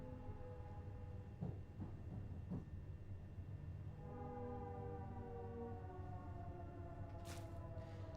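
Another train heard from the cab in Train Sim World 5, a steady rumbling drone with whining tonal hums that rise and shift, plus a brief hiss near the end.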